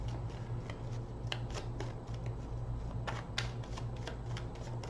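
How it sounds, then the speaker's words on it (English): A deck of tarot cards is shuffled by hand close up, giving a steady dense riffle of papery flutters with sharper card snaps scattered through the five seconds. "3 more shuffles."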